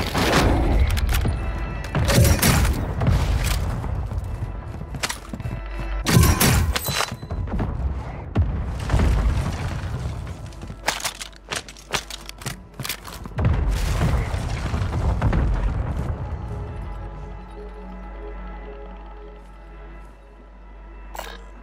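Grenade blasts and gunfire in the battle royale game Call of Duty Warzone 2: loud booming explosions and bursts of shots come in heavy clusters, with a quieter stretch and some low ambient rumble toward the end.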